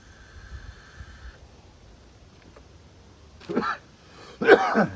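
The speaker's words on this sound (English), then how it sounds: "Damn vape making me cough." Two short, rough coughing bursts close by, the second louder, after a few seconds of quiet background hum.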